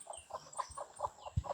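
Chickens cluck in a rural Thai farmyard, a steady run of short repeated clucks close by, with one sharper low thump near the end.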